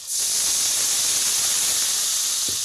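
A small splash of water poured onto hot spices frying in a kadai for a Bengali fish curry sets off a loud, steady steam hiss that rises sharply and holds nearly unchanged throughout, with no talking.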